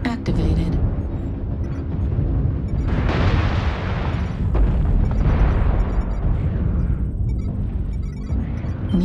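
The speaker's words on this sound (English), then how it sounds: "Artillery strike activated." Artillery strike explosions in a video game: loud, dense booming blasts that swell around the three- and five-second marks, over continuous rumbling battle noise with a voice mixed in.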